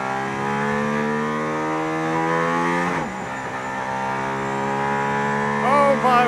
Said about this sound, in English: I can't believe I'm sitting in the AMG ONE on a racetrack behind the Formula One safety